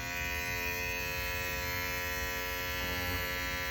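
Continuous steady buzzing hum of an Andis ReVite cordless hair clipper motor running at full power close by, even and unbroken throughout, with no voices.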